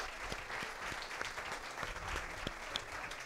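An audience at a theatre talk session applauds an actor in a steady, even round of clapping, heard from a distance and at low volume.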